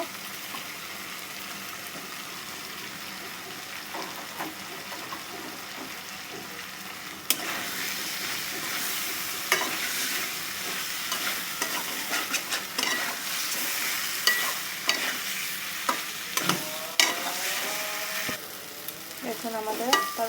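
Fried eggs are stirred into a sizzling spice masala for an egg curry made without ginger or garlic. A quiet hiss builds into louder, close frying, with repeated scraping and stirring strokes.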